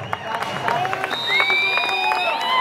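A festival crowd at a 2024 Dahi Handi event in Ichalkaranji cheers and claps after a seven-tier human pyramid attempt by the Shivneri Tasgaon team, with steady applause, shouts and shrill whistles across the whole stretch.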